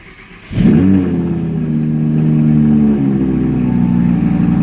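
A 2019 Audi R8 engine fires into a loud, sustained rev, rising sharply and then holding a strong, steady roar nearby with slight pitch shifts. No voices are heard.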